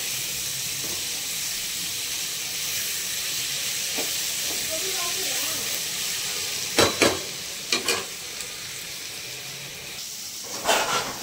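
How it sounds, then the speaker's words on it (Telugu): Ivy gourd sizzles in a pan with salt and turmeric over a medium flame, a steady soft frying hiss broken by a few sharp spatula scrapes and clatters toward the end. "సాల్ట్, పసుపు పొడి వేసుకొని బాగా మిక్స్ చేసి మీడియం ఫ్లేమ్లో పెట్టేసి ఉంచేద్దామండి."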